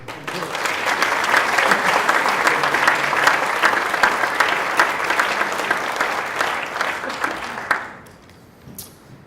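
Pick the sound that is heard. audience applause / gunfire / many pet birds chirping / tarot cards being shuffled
audience applause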